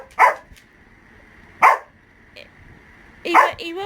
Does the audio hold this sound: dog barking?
yes